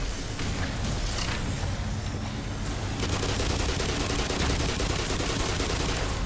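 Sustained, loud automatic gunfire in Black Mesa, dense overlapping bursts filling the whole stretch with a harsh, crackling wall of shots and no pauses.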